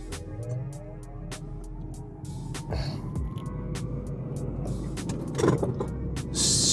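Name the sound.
Lucid Gravity electric SUV accelerating in launch mode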